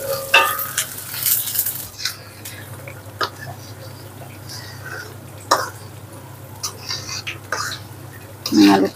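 Garlic and onion sautéed in a pan while a spoon stirs them, giving soft scraping strokes and a low sizzle under occasional quiet speech and throat clearing.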